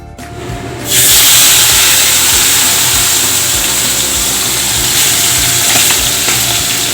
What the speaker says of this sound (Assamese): কেৰাহীত তেল গৰম হোৱাৰ পিছত দুটামান শুকান জলকীয়া দিছোঁ আৰু অলপ চেনি দিছোঁ।